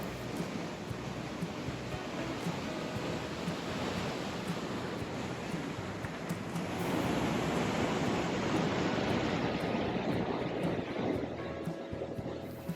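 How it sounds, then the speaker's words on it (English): Elk Falls, an 89-foot waterfall, cascading with a steady, dense roar that swells louder midway, heard alone without voices. "the water cascades down in a breathtaking display"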